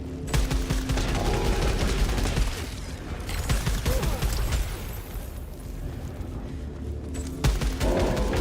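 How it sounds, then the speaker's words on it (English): A thermogenic launcher in the video game Deck of Haunts fires in a loud, sustained fusillade of rapid blasts and booming bursts, dense and continuous with a few heavier hits spaced throughout. "Thermogenic launcher."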